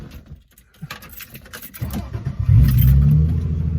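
Subaru SVX with a swapped 5-speed manual: keys jingle briefly, then the engine rises into a loud, close rev and rumble as the car pulls away.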